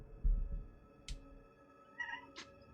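Two short cat meows in the horror video game Outlast, separated by about a second and heard over a low ambient game rumble.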